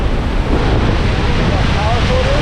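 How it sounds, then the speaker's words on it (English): Niagara Falls roars as a dense, steady wall of rushing water close by, a constant broadband rumble with wind buffeting the microphone. "Whoa, it's like a wall of water here."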